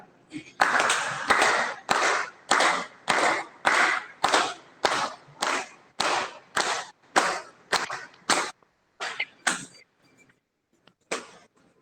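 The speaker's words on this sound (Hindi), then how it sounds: "और ताली बजा लेते हैं लास्ट" Yoga class group claps hands together in a steady, evenly spaced rhythm of about fifteen sharp claps, loud and close, then a few scattered final claps before it stops.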